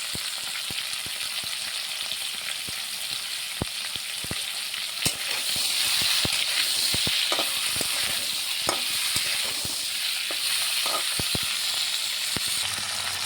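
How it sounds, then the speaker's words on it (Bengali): Prawns frying lightly in oil with a little turmeric in a pan give off a steady, close, loud sizzle throughout, punctuated by scattered crisp pops and clicks of stirring, with no voices. "এখন একটু মাছটা হালকা করে ভেজে নেব।"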